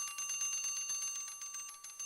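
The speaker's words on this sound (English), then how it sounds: "We can also see the hammer striking the gong repeatedly." An electric bell rings inside a glass bell jar, its hammer striking the gong in a rapid, steady series of metallic rings, clear and fairly loud, with no voices.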